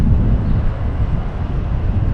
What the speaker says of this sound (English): It's a little windy over here